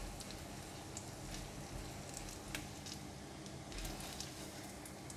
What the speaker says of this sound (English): When the oil is getting hot, put in all dry prawns. Give it a stir and fry it for about 45 seconds.